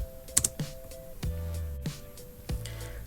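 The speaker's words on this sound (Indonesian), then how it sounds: "Kita kasih masuk beta punya kata kunci lokal, lalu tekan enter." A password is typed on a computer keyboard, a few sparse, close key clicks and thumps ending with a firmer press of the enter key, no speech.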